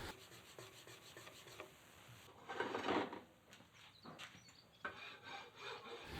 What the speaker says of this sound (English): You can see me here with that steel ruler now, kind of just smoothing out some of the scratches